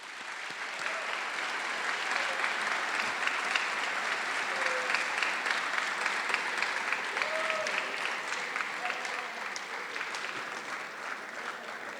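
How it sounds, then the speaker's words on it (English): At a college athletic awards gala, a large audience gives tennis and other athletes a long round of applause, dense clapping swelling and holding for about twelve seconds, with faint cheers or whoops scattered through it. "Let's give them a round of applause."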